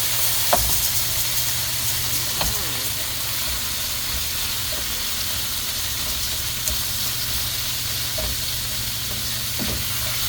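Ground meat sizzles steadily in a pan while cooking for chop suey, a constant loud frying hiss with a few soft clinks of stirring.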